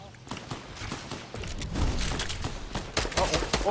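Rapid gunfire in the video game Fortnite crackles in dense bursts of sharp shots throughout, mixed with a player's excited talk over the action.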